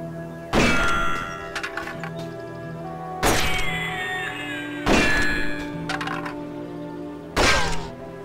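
Gunshots striking pots and pans in the Red Dead Revolver video game, four sharp metallic clangs spaced a second or two apart, each ringing out briefly before fading, close and fairly loud.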